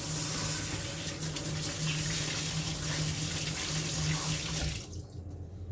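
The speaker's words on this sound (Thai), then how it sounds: "ขอล้างมือแป๊บนึง" Tap water runs steadily into a sink while hands are washed after mixing a sesame-coated Thai snack, a continuous close splashing that cuts off near the end.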